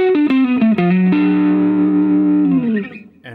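Distorted electric guitar plays a Mixolydian blues hybrid lead lick: a quick run of bent and sliding notes settling into a long sustained held note that fades out, loud and close with no talking.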